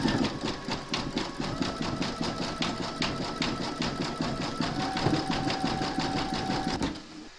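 An embroidery machine sews zigzag and satin stitches in metallic thread on a mermaid and dolphin applique, making a steady rapid rhythmic clatter nearby that runs for several seconds and then stops.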